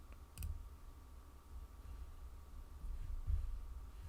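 Computer mouse clicks while downloading a file, a couple of faint, quick clicks spaced a few seconds apart over a low room hum.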